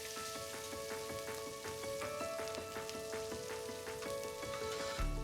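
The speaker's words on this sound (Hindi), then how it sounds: "तो इसको अच्छे से भूनते जाएंगे।" Onions and vegetables fry in a pressure cooker pot for veg biryani, giving a faint, continuous crackling sizzle with scattered small pops and no talking.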